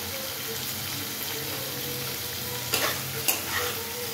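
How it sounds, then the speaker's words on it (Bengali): Paneer frying in a pan, a quiet continuous sizzle with soft stirring scrapes and two brief sharper clatters near the end, with a faint hum beneath. "পনির বেশি ফ্রাই করবো না"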